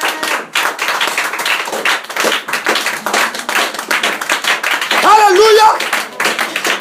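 A church congregation claps rhythmically to praise God, loud and close, with steady even beats throughout and a voice calling out briefly over the clapping near the end.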